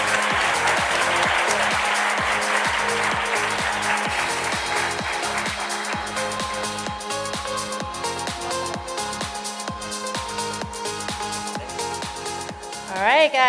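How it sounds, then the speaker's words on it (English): Applause at a CFA Institute Research Challenge final in Thailand, a broad wash of clapping that fades beneath a loud, rhythmic music track with a steady beat that carries on to the end. "Let's give them another big round of applause"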